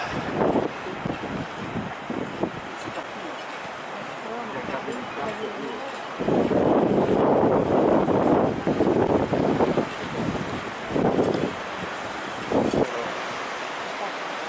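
Gusty wind buffets the microphone in uneven bursts, with a steady rush of surf or open air underneath.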